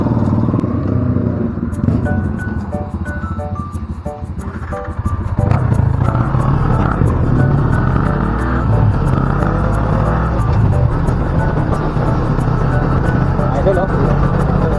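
Motorcycle engine idling and rumbling close by as the bike is brought out, loud and continuous with a steady low drone, while people talk over it.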